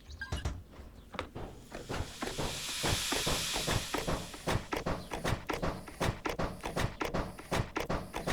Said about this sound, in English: we're going to make use of our steam by going over here, hopping up here, and we're going to open our compressor